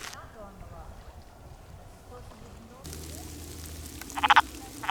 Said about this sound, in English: we've got a number of wood frogs that are all here fighting for the right to mate